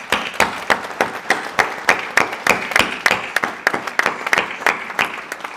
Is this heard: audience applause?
yes